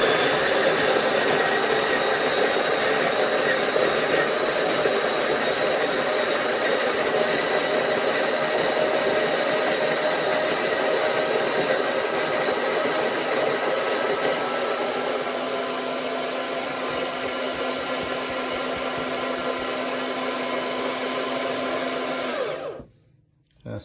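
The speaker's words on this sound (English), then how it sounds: "Let's grind." A Neretva 2-in-1 burr espresso grinder grinds recently roasted coffee beans with a loud, steady motor whir and gritty grinding texture for about twenty-two seconds, then cuts off abruptly into silence.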